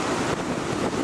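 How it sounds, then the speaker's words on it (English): Strong wind and crashing surf on Galveston Island during Hurricane Alex, a loud, dense roar of waves with wind buffeting the microphone, continuous and close throughout. "The wind is pretty strong, the waves are higher."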